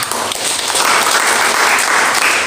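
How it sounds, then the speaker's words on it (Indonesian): Sustained applause from a church congregation during a worship service, steady and dense with many hands clapping close by. "Tepuk tangan untuk kami."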